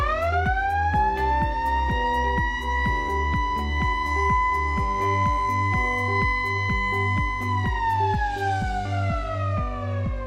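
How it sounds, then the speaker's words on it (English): A loud undulating emergency siren rising and holding a wailing tone, then falling away, over a rhythmic pulsing beat, with no talking. "5-minute undulating sounding of the emergency siren"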